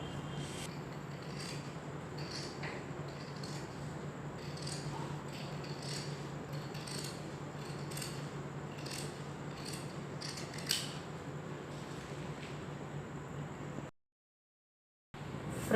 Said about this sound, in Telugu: ఇప్పుడు ఈ మార్కింగ్ చేసుకున్న విధంగా కట్ చేసుకోవాలి.